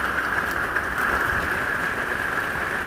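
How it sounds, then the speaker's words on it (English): Rain falls steadily on outdoor surfaces by a garden, a dense continuous patter with no voices. "Oh, we are getting rain again."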